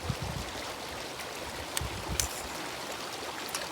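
River water flows steadily just downstream of a lake at a fishing spot, a continuous rushing, gurgling wash that stays even throughout with a few faint clicks, and no voices.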